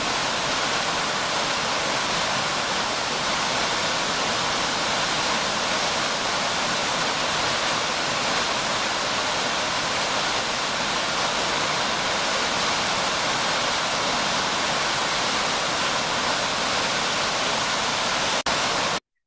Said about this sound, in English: So that is the Solduck Falls, the three-parted waterfall.